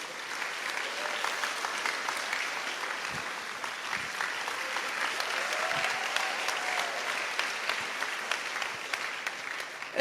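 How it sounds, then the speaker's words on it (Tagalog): Audience applause at a church youth camp, steady sustained clapping from a large crowd, moderately loud and even throughout. "Ngayon ang pumalakpak ang mga tao rito."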